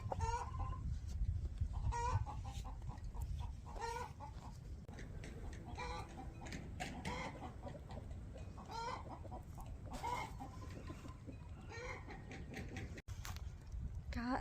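Backyard hens cluck repeatedly in short bursts, a busy cluster nearby, with steady low background noise throughout.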